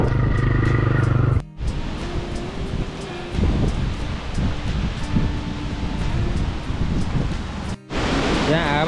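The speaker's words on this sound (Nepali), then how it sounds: "यहाँ हावा चाहिँ एकदम डेन्जर चलिरहेछ" Strong wind with rain on a hill road in Syangja, Nepal, roars and buffets the microphone almost continuously, with two brief dropouts.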